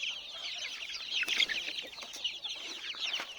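Free-range country chickens, about two-and-a-half-month-old chicks on a farm, cluck and chirp busily as feed is brought in a basket, a dense overlapping chorus of close, lively calls.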